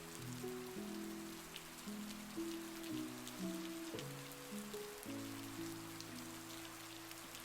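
Steady rain patters softly on a cabin, faint and even, beneath sustained low music tones that shift from chord to chord.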